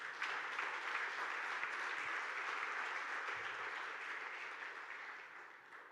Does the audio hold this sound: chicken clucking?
no